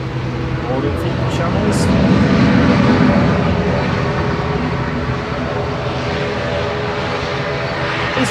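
EasyJet Airbus A320 bound for Corfu at Manchester Airport, taking off with a steady, loud jet engine roar and broadband rumble that holds for several seconds, with a voice talking over it.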